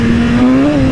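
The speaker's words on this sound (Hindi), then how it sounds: "देख रहे हो कैसे भाग रही है यार ये बाइक" A BMW S1000RR superbike accelerates hard, its engine note rising steadily in pitch, loud and close throughout a brief burst.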